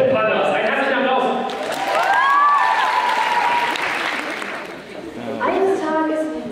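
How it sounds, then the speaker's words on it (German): Hearty audience applause at a convention stage show, a thick, sustained roar of clapping with cheering and crowd voices mixed in, swelling and dipping slightly over several seconds. "Ein herzlicher Applaus!"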